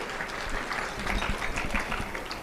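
Steady applause from an audience, a dense wash of clapping that holds evenly throughout, moderately distant.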